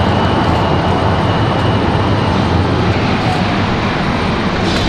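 A Breeze Airways Embraer E190 jet arriving at Raleigh-Durham airport, heard as a continuous, loud, dense rushing roar with no clear break across the few seconds.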